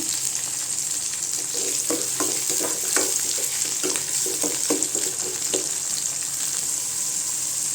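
Tomatoes sauté in a pan for okra gravy with a bright, continuous sizzle, and a run of rhythmic spatula strokes scrapes through the middle before settling back into a steady hiss.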